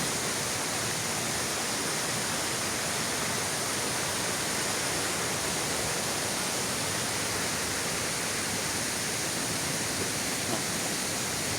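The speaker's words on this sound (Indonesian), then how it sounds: "Nah, kondisi curugnya lagi deras banget" Heavy waterfall at night pours in a steady, dense broadband roar, loud and unbroken throughout with no voices over it.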